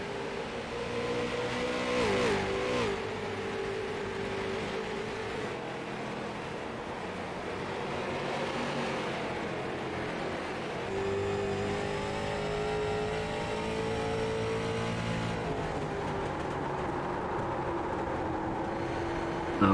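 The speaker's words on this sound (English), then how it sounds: "you heard that car screeching through that corner" A street stock race car screeches through a corner, its continuous loud engine roar joined by sweeping tonal whines that hold steady throughout, with no talking.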